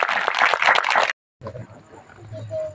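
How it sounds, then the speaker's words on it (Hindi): Wedding guests at a village Christian wedding burst into dense, lively applause for about a second, then it cuts off abruptly, leaving a quieter room with low murmuring and faint tonal sounds. "जोरदार ताली होना चाहिए।"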